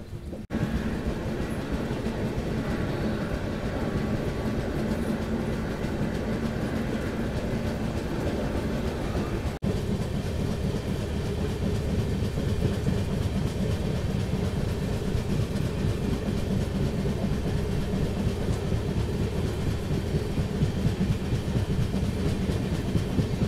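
Golgumbaz Express passenger train pulled by a diesel locomotive on the Mysore to Pandharpur run, heard from a sleeper coach: a loud, steady rumble with rattling wheel clatter that continues without a break.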